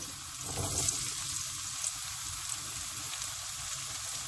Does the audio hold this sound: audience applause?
no